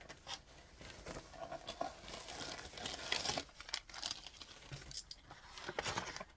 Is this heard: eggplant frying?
no